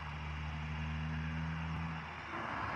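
A car engine hums steadily at night outside, a low idling drone heard from a moderate distance that eases off near the end, with no talking.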